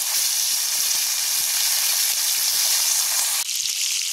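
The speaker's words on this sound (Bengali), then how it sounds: "দেখো কড়াই সরষের তেল দিয়ে দিয়েছি, তেল গরম হয়ে গেছে। এবার আমি মাছগুলোকে ভেজে নেব।" Bata fish fry in hot mustard oil in a wok, giving a loud, steady sizzle with a bright hiss and small crackles that keep going throughout before easing slightly near the end.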